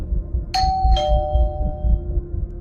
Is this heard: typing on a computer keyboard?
no